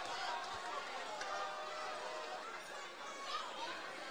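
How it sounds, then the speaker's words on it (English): A fight crowd at a CF 47 bout between Martin Zapata and Daman Saudi keeps up a steady, fairly distant roar of cheering and chatter beneath a commentator's voice. "You can hear the crowd getting behind the young fella."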